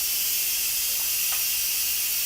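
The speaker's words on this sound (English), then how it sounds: "We're going to release the steam off of it" Steam hisses steadily from the release valve of an Instant Pot electric pressure cooker after potatoes and corned beef have cooked, a loud, continuous close rush with no pauses.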